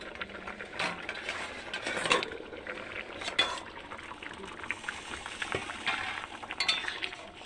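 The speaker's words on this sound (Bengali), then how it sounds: "ঢাকনাটা খুলে দিই।" Lid lifted off a cooking pot of fish curry with beans, bringing light metallic clinks and scraping of pot and utensils, close by and moderately quiet over a steady kitchen background.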